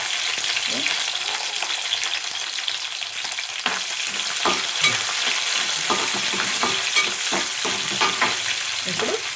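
Green chillies and onions frying in a pan, a steady close sizzle with scattered crackles and pops throughout, no voices.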